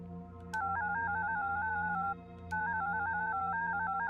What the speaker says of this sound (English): Corny phone.